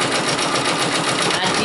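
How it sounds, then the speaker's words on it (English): Brother Persona PRS 100 embroidery machine stitching a monogram on boots held in a fast frame, a loud, steady, fast mechanical whir with continuous needle rhythm close up and a voice faintly mixed in. "While that's embroidering"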